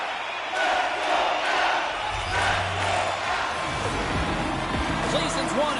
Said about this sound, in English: You can feel the energy in this crowd.